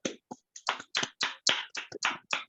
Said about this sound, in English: another round of applause, Jill, for the ultimate volunteer